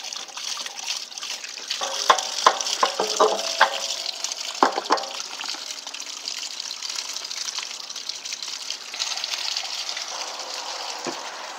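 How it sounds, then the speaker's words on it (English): Water and loose sediment flush out of an RV water heater tank as a rod is worked in and out, a steady close gushing splash with a few sharper bursts and gurgles early on. "you'll see some sediment come out as you're moving it in and out to try to move around to the bottom of the tank"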